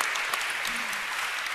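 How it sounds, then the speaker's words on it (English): Audience applause at a women-in-tech conference in 2015, a steady dense clapping of a crowd filling the whole stretch, moderately loud and continuous. "Give them a round of applause,"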